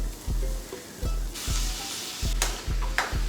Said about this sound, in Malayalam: നന്നായിട്ട് വഴറ്റിയതിന് ശേഷം നമുക്കിതിലേക്ക് ചിക്കൻ കഷ്ണങ്ങൾ ഇട്ട് കൊടുക്കാം